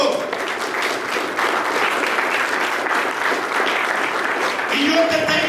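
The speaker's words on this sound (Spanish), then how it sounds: "¿Cuánto le dan un aplauso al Señor?" Church congregation applauding in praise, a loud steady wave of clapping from many people, with a voice rising near the end.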